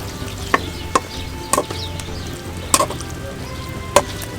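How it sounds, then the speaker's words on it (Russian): A spoon stirring a cheese mixture with egg yolk in a pot, quiet with sparse sharp scrapes and clinks against the metal over a low background hum, no voices. "И перемешиваем."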